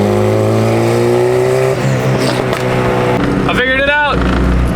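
A turbocharged Honda engine drones loudly under boost, its steady pitch faltering and stuttering as it breaks up, then revving with a rising, wavering whine; a voice speaks over the engine noise.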